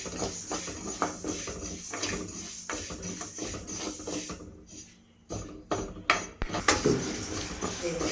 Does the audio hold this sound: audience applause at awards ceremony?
no